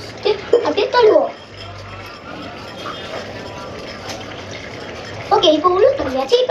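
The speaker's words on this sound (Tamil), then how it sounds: "சரி தண்ணி பிடிச்சிட்டு அப்படியே கழுவோம்." Tap water runs steadily into a container during washing, a continuous hiss that stays under speech at the start and end, with a faint clink partway through.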